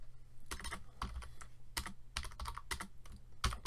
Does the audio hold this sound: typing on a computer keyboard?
yes